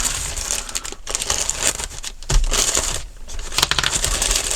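Plastic parcel bags crinkle and rustle close by in irregular bursts, with brief crunches and short pauses between handling.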